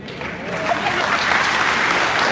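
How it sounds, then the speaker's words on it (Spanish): A congregation at a church assembly applauds warmly for a group of pastors, a thick wash of many hands clapping that swells slightly and holds strong throughout. "Aplauso fuerte que se oiga para estos hermanos."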